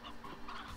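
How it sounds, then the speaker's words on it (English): Chickens clucking in the video game Slime Rancher, a steady layered cluster of fowl calls from a penned flock, moderately faint and continuous through the short moment with no talk. "Look at all of them chickens."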